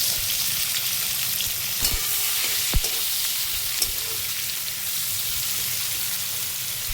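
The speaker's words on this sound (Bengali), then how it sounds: "পেঁয়াজের রং পরিবর্তন হওয়া অবধি পেঁয়াজটাকে ভাজতে থাকবে" Chopped onions frying in oil with dried red chilli and whole cumin, a loud continuous hiss and crackle with a couple of sharp stirring knocks, no talking.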